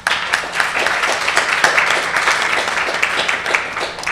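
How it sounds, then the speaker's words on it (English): An audience at a Net2van talk on young people and digital technology applauds Emma Joa with brisk, dense clapping that rises and falls slightly but continues steadily throughout. "Please, a round of applause for Emma Joa."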